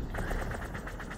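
Rapid rattling gunfire from the video game Hauntii, a dense, continuous burst of quick shots lasting about a second, steady in level and fairly close.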